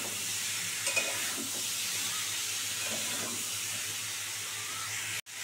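Vegetable stalks stir-fried in a pan for a prawn and vegetable dish, giving a steady broad hiss of frying with faint scraping stirs, continuous and close, ending abruptly.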